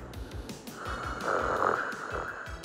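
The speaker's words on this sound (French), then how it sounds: "elle ne peut pas s'endormir quelque part sans se mettre à ronfler comme une tronçonneuse" A woman snores loudly, a rough, rasping breath that swells and fades over a couple of seconds, heard alone.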